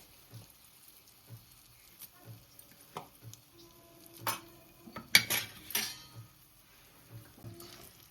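Urad dal chutney is mixed with oil in a pan, heard as sparse, soft metal clinks and taps of a spoon against the pan at a slow, uneven pace, with a slightly louder clatter midway.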